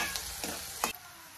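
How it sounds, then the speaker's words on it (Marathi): Sliced onion and curry leaves sizzle in hot oil in a pan, a close, continuous crackling fry broken by a few soft stirring scrapes. "बघा, तेलामध्ये मी कांदा चांगला लाल भाजू दिलाय।"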